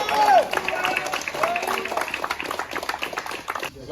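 A tournament audience claps briskly for a few seconds, the applause close and dense with voices talking over it.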